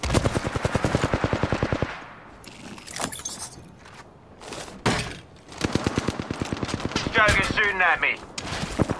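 Rapid automatic weapon fire in the Apex Legends video game, with dense bursts at the start and end separated by scattered single shots and clanks, loud and close, with players talking.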